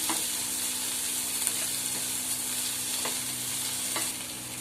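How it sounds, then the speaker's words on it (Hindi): Tomatoes cooking and stirred in a pan, an even close sizzle running throughout with a few faint spoon scrapes on top. "तो मैंने अपने टमाटर डाल दिए। हमें इसको ज्यादा देर तक नहीं घुमाना है, नहीं पकाना है।"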